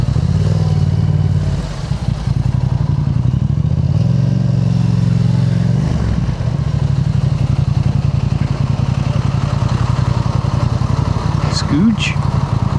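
A 2025 Yamaha MT-07 motorcycle rides with a loud, steady engine drone up close, its pitch shifting around the downshifts and rev changes made with a quickshifter. Wind noise runs throughout.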